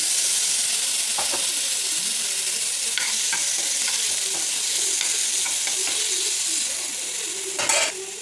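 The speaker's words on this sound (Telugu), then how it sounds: "అదే నూనెలో అదే కళాయిలో టమాటాలు వేసుకొని ఉడికిస్తున్నాం" Tomatoes cooking in hot oil in a kadai give a steady close sizzle and frying hiss, with occasional stirring scrapes and a louder clatter near the end; no talk.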